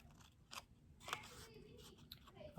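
Paper cut with scissors in a few short, scattered snips spread over a couple of seconds, with quiet rustling between them and a louder bump right at the end.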